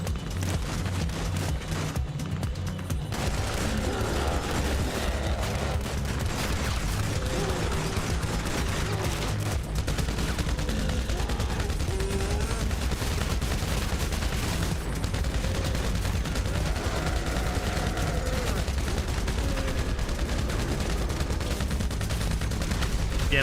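Sustained gunfire and bursts of automatic weapons in GTA Online during a Cayo Perico mission, dense and continuous over a busy game soundtrack with a few faint voices.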